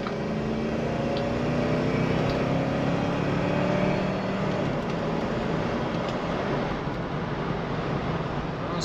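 A 1990 Ford Mustang LX Foxbody hatchback engine revs with a low, steady drone whose pitch rises and eases, moderately distant, with no talking.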